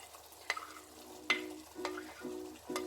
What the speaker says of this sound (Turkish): Biberlerimizi de ekliyoruz.